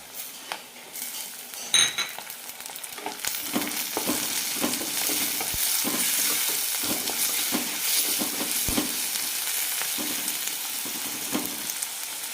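Chopped tomato and green chilies are sautéed in a pan for potato kurma. A steady sizzle runs under repeated stirring, with spoon scrapes and occasional metallic clinks against the pot, close and without talk.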